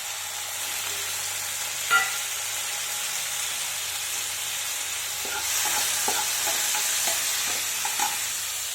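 Tomatoes and onions frying in a pan for methi dal give a loud, steady sizzle, with a knock early on and a run of scraping stirs toward the end.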